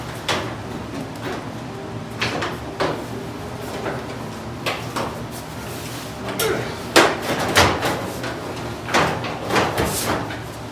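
Hammer blows pound at the dented hood of a 1926 Oakland car: sharp, irregular knocks spaced through the clip, some louder toward the end, over a low background hum.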